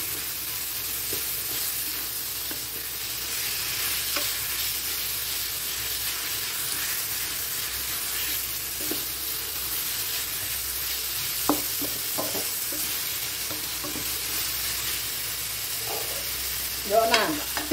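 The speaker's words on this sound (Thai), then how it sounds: "ใส่หมูสับลงไปก่อนแล้วกันเนาะเพราะว่าหมูกรอบสุกมาแล้วค่ะ" Minced pork stir-fried in a hot pan for Thai basil stir-fry with crispy pork, a steady close sizzle with intermittent scraping and stirring clicks and a louder burst of activity near the end.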